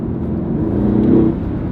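A Mercedes-AMG GT R in sport mode accelerates, its engine a loud, close, steady whirring roar that swells slightly toward the end of a short stretch, with no voices.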